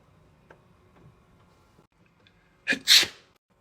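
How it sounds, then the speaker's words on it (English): A person sneezes, a sharp, loud, explosive burst with a short intake just before, after a stretch of quiet room noise with faint ticking. "I sneezed."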